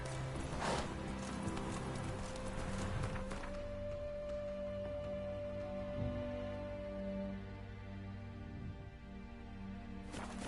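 Roach, Geralt's horse in Witcher 3, gallops with steady hoof clip-clop beneath a sustained tonal game-music drone, and a brief whinny is possible near the start.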